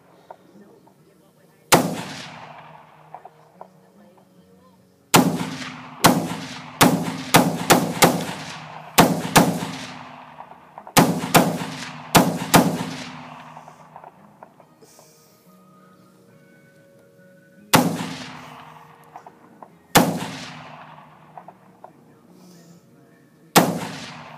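Shots from an AR-15 rifle with a bull barrel crack loudly at an outdoor range, sharp single reports and quick clusters of fire, each followed by a ringing decay, with gaps between strings.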